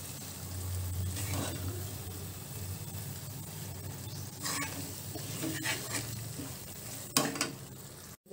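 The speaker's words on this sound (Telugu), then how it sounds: "లో ఫ్లేమ్ లోనే పులిహోర గుజ్జుని రెడీ చేసుకోవాలండి." Tamarind pulihora paste cooking in oil over a low flame, with a soft continuous sizzle and occasional scraping stirs of a spoon in the pan, quiet and close.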